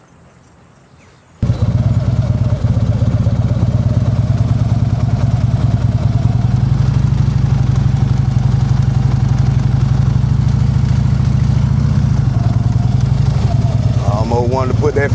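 A motorcycle ridden in a solo practice session, starting after a quiet moment and then holding a loud, steady engine drone close to the microphone for the rest of the clip.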